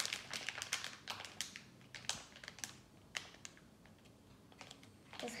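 Hands opening a LEGO Harry Potter minifigure packet: faint, quick crinkles and plastic taps come in irregular bursts, close and quiet, with no talk.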